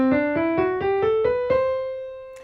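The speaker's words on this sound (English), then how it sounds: "let's talk about C Lydian, which sounds like this" A single instrument plays an ascending C Lydian scale of seven plucked notes, evenly spaced, the last note left ringing out clearly.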